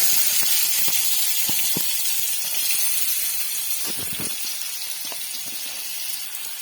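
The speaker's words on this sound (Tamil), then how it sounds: "2 பெரிய வெங்காயம் பொடி பொடியா நறுக்கி எடுத்து வச்சிருக்கேன். இப்போ அதை போட்டுறேன்." Loud, steady sizzling as two large, finely chopped onions hit hot oil for prawn thokku, a dense hiss with scattered crackles and pops throughout.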